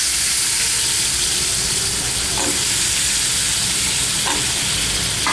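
Onion and brinjal fry in a pan with a steady, loud sizzle and crackle, while a few brief stirring scrapes break through the continuous hiss; nobody speaks.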